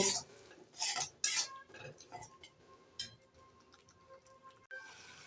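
Metal spoon scraping and clinking against a pan while spice masala is stirred and fried for a fish curry, with loud bright clatters early on and quieter intermittent scrapes after, close by and without speech.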